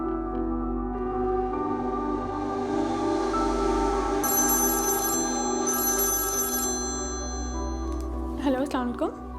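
A telephone rings on an outgoing call, two clear electronic ring bursts in a row over a steady background hum, followed by a brief voice at the end.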